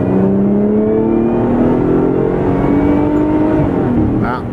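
A 2013 Lotus Evora S in sport mode, downshifted to second with the paddles, gives a loud sustained engine note that climbs steadily in pitch as it accelerates, heard from inside the car.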